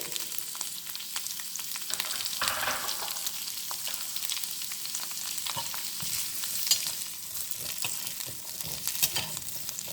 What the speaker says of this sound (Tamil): இதை வறுத்துக்கலாம் எண்ணெயில்.